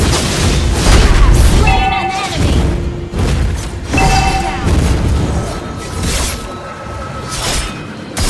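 A turret is destroyed in the Mobile Legends Bang Bang mobile battle game amid repeated heavy booms and crashing impacts. Game voice lines and effects layer over the loud, rolling blasts.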